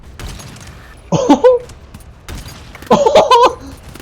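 A DMR-style weapon firing in the co-op shooter GTFO: two separated bursts of sharp reports, each a quick cluster of shots, loud and close over quiet ambience.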